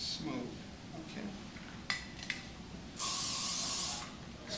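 Hairspray hisses onto a bridal chignon in one steady, close burst lasting about a second, after a couple of small clicks and quieter handling noise.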